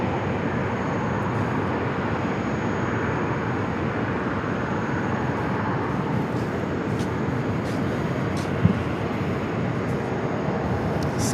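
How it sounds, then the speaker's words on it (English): A United Boeing 737-900 jet airliner at Phoenix Sky Harbor gives a steady, broad roar that holds evenly throughout, with no voices over it. "United flight heading to Houston, the 737-900"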